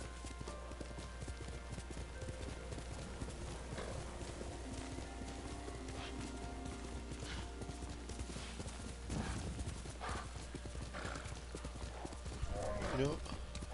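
Steady galloping hoofbeats from a horse in the video game Ghost of Tsushima run throughout over a low hum, with a horse whinny near the end.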